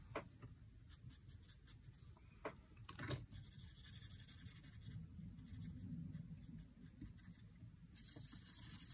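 A tool is drawn along folds on a paper Christmas card, giving repeated soft scraping and rubbing strokes close by, with a few sharper taps, over a low steady background hum.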